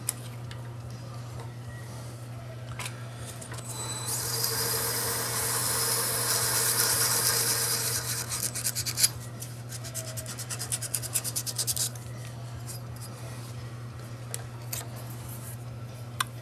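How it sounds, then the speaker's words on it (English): A pen blank tube spun on a lathe at low speed and roughed up with 100 grit sandpaper, giving a steady hissing scratch that swells in the middle and fades into light ticks and rubbing, close, with no talk. "So now we have our tube all sanded up."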